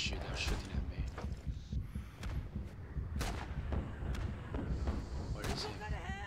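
Gunfire in the World War II shooter game Rising Storm comes as several sharp, booming shots and thuds spaced irregularly across a short stretch, heard over a low rumbling battlefield background.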